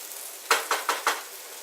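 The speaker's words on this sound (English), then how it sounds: "You can hear that sizzle in my pan" Soft background hiss of spiced potatoes and peas frying, with four quick scraping stirs in a pan, close and fairly quiet.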